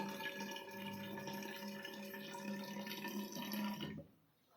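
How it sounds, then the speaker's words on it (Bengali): Water pouring steadily into an empty bottle, a continuous close splashing stream with a slowly rising tone as the bottle fills, cutting off abruptly near the end. "জলটাও বেশ সুন্দর পড়ছে"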